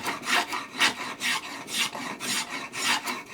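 A metal-bodied spokeshave smoothing wood in quick, even strokes, about eight rasping passes in a steady back-and-forth rhythm, close and clear with no voices.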